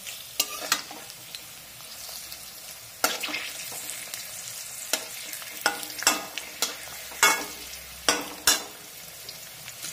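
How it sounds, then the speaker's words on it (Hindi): Spring onion and pea pakoras frying in a pan of oil, a soft continuous sizzle broken by repeated sharp scrapes and clacks as the fritters are stirred and flipped. "इसे हम दोनों तरफ से गोल्डन ब्राउन होने तक हम फ्राई करेंगे।"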